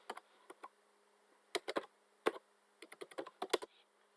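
Password being entered on a computer keyboard, a scattered series of crisp close key clicks in uneven bursts with short pauses between, quiet background and no voices.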